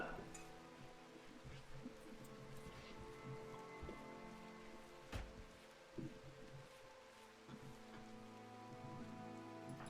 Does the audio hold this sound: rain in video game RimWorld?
yes